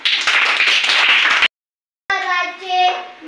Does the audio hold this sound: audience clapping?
yes